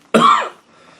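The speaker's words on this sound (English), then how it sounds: "I'm sorry about the coughing." A single sharp, close cough bursts out and fades within half a second, followed by near silence.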